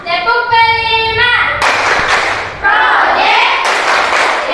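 A classroom of pupils chanting together in unison and clapping in rhythm during an ice-breaking activity, loud and close, with sharp broadband clap bursts breaking between the sung phrases.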